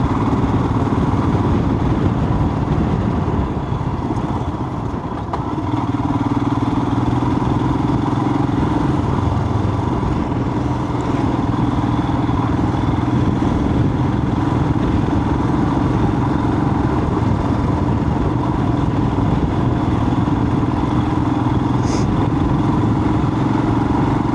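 Motorcycles roll loudly and steadily through a village with many humps, a constant close engine drone that holds throughout without pause.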